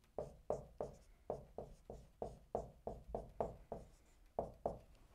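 A pen scratches on paper by hand during a math problem, a steady series of about fifteen short, close strokes in an uneven rhythm.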